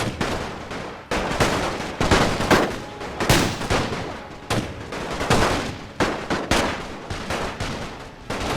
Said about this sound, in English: We're gonna tell the front troops to go ahead and fire on the enemy as they approach.